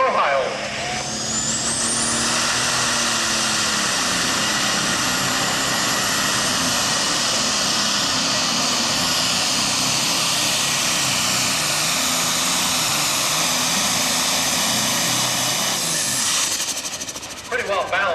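A competition pulling truck's engine roars down the track, a loud sustained blast with hissing and rising pitch at the start, holding steady before fading at the end.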